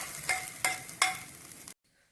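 Mustard seeds splutter in hot coconut oil, a close, steady sizzle broken by three or four sharp popping crackles before it abruptly goes silent.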